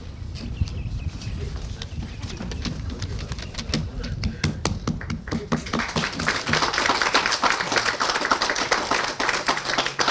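Applause from an audience at a Vietnam veterans day ceremony honouring standing veterans, scattered claps at first that thicken into sustained clapping, heard outdoors with some talk mixed in.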